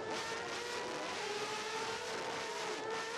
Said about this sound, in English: Here he is, Borja Garcia with Sevilla doing his pit stop, keeping the engine running.